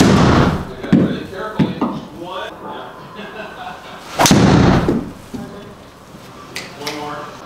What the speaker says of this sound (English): I'm gonna give it a couple more whacks because there's some reason that I want to keep hitting this driver